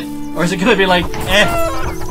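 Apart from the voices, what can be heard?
chicken clucking in a video game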